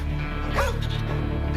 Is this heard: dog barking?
yes